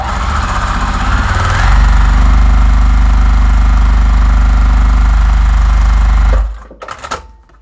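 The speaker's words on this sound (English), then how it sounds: "And then you flip it over, sew down the line." Sewing machine stitching pieced quilt block fabric for an Album Star block, a loud, close, rapid mechanical whirring hum running steadily for several seconds before stopping abruptly, followed by a few small handling clicks.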